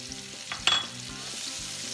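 Chopped onions dropped into a hot pan for country red potatoes, a sudden loud hiss that settles into a steady frying sizzle with light stirring taps, no voices.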